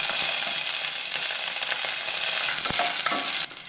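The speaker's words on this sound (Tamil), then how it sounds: "இப்போ காஞ்ச மிளகாய், அடுத்தது பூண்டு இடித்து வச்சுருக்கிறது, பச்சை மிளகாய் 1, கருவேப்பிலை இதெல்லாம் போடலாம்" Dried red chilli, crushed garlic, a green chilli and curry leaves fry in hot oil for a tomato rasam tempering, giving a loud, continuous crackling sizzle with stirring throughout and no voices.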